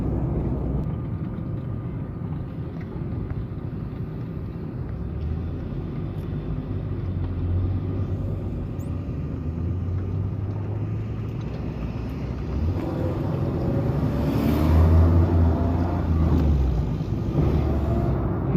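A diesel vehicle with a crankshaft bearing and connecting rod fault drives along at a good clip, a steady engine and road rumble that swells slightly toward the end, with no talk over it.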